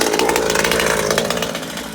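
Nitro gas engine of a Rovan Baja Max T RC car running close and loud, a raspy, buzzing two-stroke drone with rapid pulsing, steady throughout with no talking.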